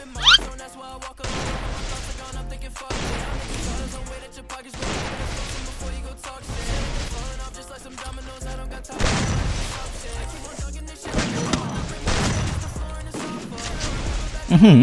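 Gunfire in the mobile game Free Fire, repeated loud bursts of shots and impacts coming in separate waves with short gaps between them, mixed with game music and effects.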